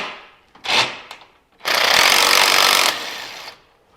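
A wrench works a nut off the back of a roof mount on a Polaris General 4-seat UTV: two short mechanical rattling bursts, then a long, loud, close buzzing ratchet-like run that tapers off.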